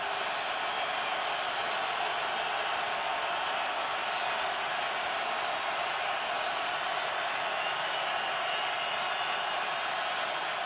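Broad, steady roar of a packed NFL stadium crowd at a Giants at Eagles night game in Philadelphia, a continuous wash of cheering with no distinct breaks.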